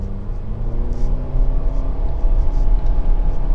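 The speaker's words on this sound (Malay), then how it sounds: "So gear D, kita try accelerate." A 2016 Nissan X-Trail with a CVT gearbox pulls away from a stop, a steady low engine drone and road rumble rising gradually as it accelerates, heard from inside the cabin.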